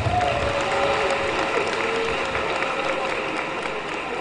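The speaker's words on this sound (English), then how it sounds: "WAPA deserves another round of applause" Sustained applause from an audience at a Lagos government micro-enterprise support event for women and youths, steady clapping filling the room for several seconds with a faint crowd murmur and no voice over it.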